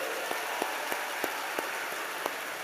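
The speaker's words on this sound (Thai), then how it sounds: "ขอให้ทุกท่านปรบมือให้กับคนที่แนะนำท่านมาด้วย" A seminar audience claps together in a dense, hissing patter of many hands, with a few louder single claps standing out at roughly even intervals throughout.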